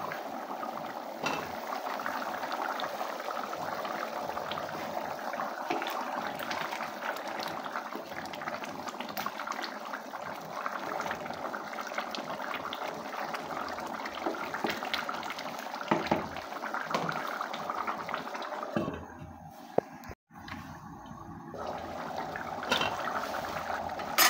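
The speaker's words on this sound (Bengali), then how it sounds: "এখন আর কিছুক্ষণ জাল দিয়ে এটা ফুটিয়ে নিলে তৈরি হয়ে যাবে আমার বুটের ডাল দিয়ে মাংস রান্না।" Beef with chickpea dal simmering in a covered pot, a steady close bubbling and hissing boil that runs on without talk, with a brief clatter near the end.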